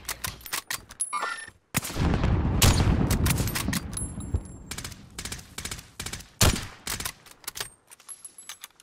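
Video game gunfire, rapid bursts of loud automatic shots and a few sharp single reports, close and dense with brief gaps and electronic interface tones, no voices heard.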